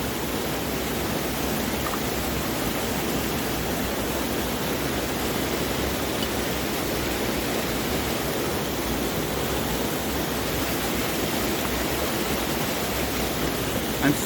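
Shallow stream water about a foot and a half deep rushes steadily around someone standing in it, a dense, even wash of flowing noise that continues unbroken and close throughout.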